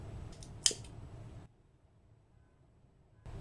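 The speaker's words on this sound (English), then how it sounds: "and cut your yarn" A single close snip of scissors cutting crochet yarn, a quick crisp click amid faint handling rustle, followed by near silence.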